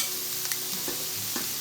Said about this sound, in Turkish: Patateslerimi kızarttığım aynı tavanın içine bu sefer haşlayıp soğuk suda bekletip sonra da süzdürdüğüm ciğerleri ekliyorum.